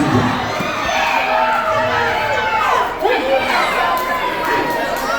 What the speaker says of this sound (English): the crowd is not happy with that count